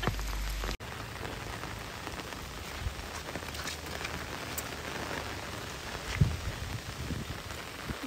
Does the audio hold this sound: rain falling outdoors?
yes